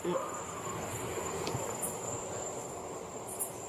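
Insects chirping at night, a steady high shrill drone filling the background, loud and continuous, with faint scattered sounds beneath and no clear talk.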